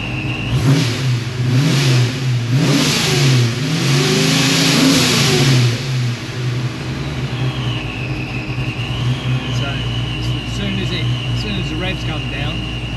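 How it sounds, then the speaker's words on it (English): A small block Ford engine with a low oil pressure fault idles just above 800 rpm, then revs up loudly and steadily nearby before settling back, while someone talks over it. "So, let me give it a little rev."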